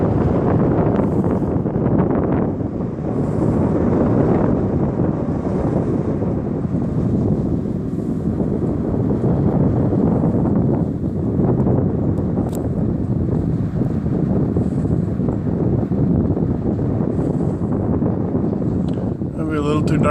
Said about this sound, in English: the wind is just blowing the dust across the parking lot really bad